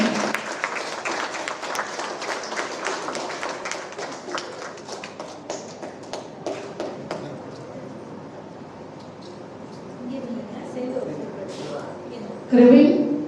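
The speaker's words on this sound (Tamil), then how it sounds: "அனைவரும் கைத்தட்டி உற்சாகப்படுத்தவும்." An audience claps for children receiving awards at a school ceremony, with scattered clapping that thins and fades, and an announcer speaking over it.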